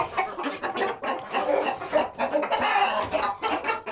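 Young chicks squabble and fight close by, a rapid string of clucks and agitated peeping calls with no pauses.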